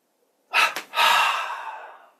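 A deep inhalation during a breathing exercise in a yoga session: a short sharp intake of breath, then a longer airy breath that fades out slowly. It is close and clear, with no talk.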